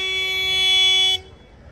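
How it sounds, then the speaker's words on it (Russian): A car horn blares in one long, steady blast up close on a road in Georgia, then cuts off abruptly, leaving quiet road noise. "Очень модно сигналить в Грузии."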